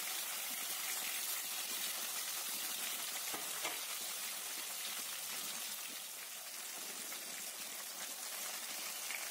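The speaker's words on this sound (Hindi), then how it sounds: "माछ भाजिबा पई एठी मो तीन चार चमच सोरिष तेल नेची, सेथिरे माछ गुड़िक पकाई भाजी दबा" Fish pieces frying in three or four spoons of mustard oil for a home-style Odia fish curry, a loud, dense, even hiss of bubbling oil that holds steady from start to end.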